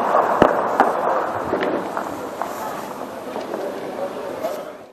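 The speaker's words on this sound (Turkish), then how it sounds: "İlçeden gün boyu silah sesleri yükseldi." Sharp gunshot-like cracks from armed clashes in a town district ring out irregularly, a few loud ones early then fainter scattered reports, over a noisy outdoor background.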